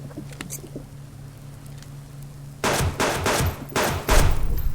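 Pistol shots fired at a bear in the hunting survival game Subsistence, several sharp loud reports in an uneven sequence over a low background hum, with no talking.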